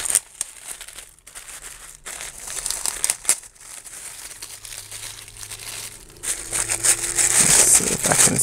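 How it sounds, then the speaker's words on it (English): Branded tissue paper crinkles and crumples as a baggie is unwrapped from it, close and steady rustling with sharp tearing bursts that grow louder toward the end, no voices. "So I'm gonna just open this one, a nice baggie, again in the branded tissue paper."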